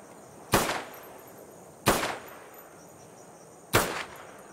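Three sharp, loud gunshots crack out in a PC video game, each followed by a short decaying tail, spaced more than a second apart with quiet between them.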